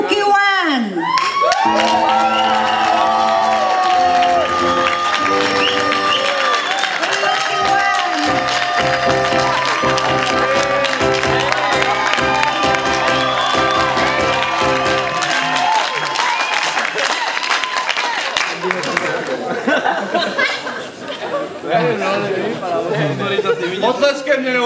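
Crowd at a Czech amateur sports match between Reds and Yellows, clapping and cheering loudly for the referee, with a musical fanfare playing under it and a voice speaking through the noise; the applause thins toward the end.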